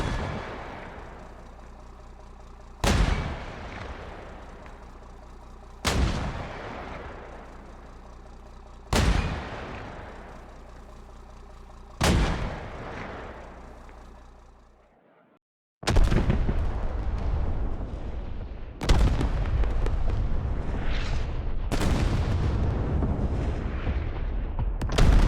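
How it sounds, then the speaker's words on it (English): A mortar in the Squad military shooter fires high-explosive airburst rounds: four evenly spaced heavy booms with long decaying tails, then a denser run of loud blasts and rumbling impacts, with no talking. "the mortar can fire high explosive near surface rounds, better known as airburst rounds"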